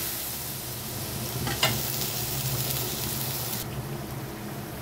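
Spice paste for Bengali kochur ghonto fries in oil, a dense steady sizzle with occasional stirring scrapes, close and loud throughout.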